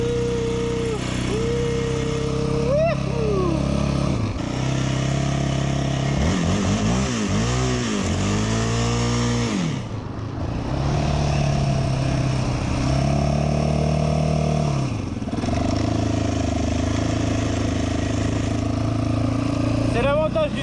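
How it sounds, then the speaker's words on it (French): A 700cc single-cylinder motorcycle pulls hard and shifts gears, its loud, close engine note climbing in pitch, dropping at each gear change, then rising again steadily over about twenty seconds. A voice speaks over the engine. "Alors on lâche un peu les gaz, on passe la seconde."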